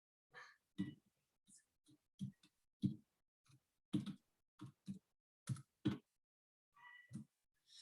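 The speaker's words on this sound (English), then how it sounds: "what I am doing is I'm typing in the chat" Someone types in an online chat on a computer keyboard, producing sparse, irregular clicks and taps in small clusters, close and quiet against silence.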